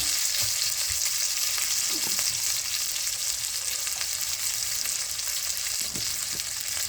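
A chicken cutlet fries in a pan, giving a steady, close hiss of sizzling oil with faint crackles, continuous and unbroken with no voices.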